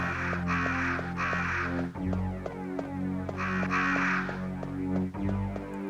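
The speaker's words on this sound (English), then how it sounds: "Only crows in the game?" Crows cawing in the Resident Evil video game, a few harsh, repeated caws in bursts over a steady low hum and droning ambient game music, with no talking.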